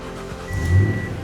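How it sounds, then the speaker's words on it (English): A 2010-2017 Toyota Tundra engine cranks and catches on remote start, rising to a near, steady low idle rumble with a faint electronic tone overhead; no talk. "Vehicle runs and starts."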